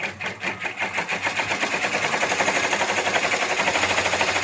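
A sewing machine stitches with metallic thread in a fast, even mechanical chatter that settles into a steady rapid rhythm, close up and unbroken, with no voices.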